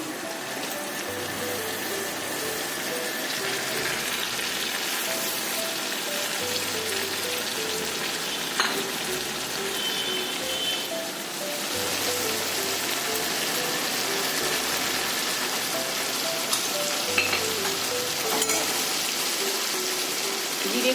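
Ground spices such as coriander and chilli powder sizzle as they are added one by one to a pot of prawn khichdi made with red lentils and parboiled rice. The hiss is steady, close and rain-like, with faint background music underneath.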